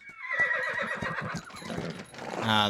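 A horse whinnies in the video game Pentiment, a loud, shaky neigh with a falling, quavering pitch, followed by clopping hooves and a rising sound at the end.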